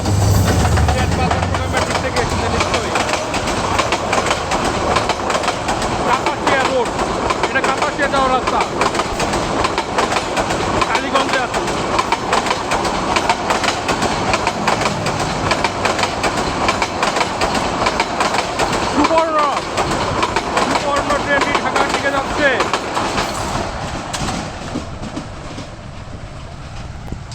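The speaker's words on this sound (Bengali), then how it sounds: "কোনো আলোচনা ট্রেন ঢাকার দিকে যাচ্ছে দুপুরবেলা" A midday train bound for Dhaka rolls through a road level crossing beside the Kapasia road near Arikhola station, producing a loud, continuous, close rumble with wheel clatter that eases toward the end while someone talks over it.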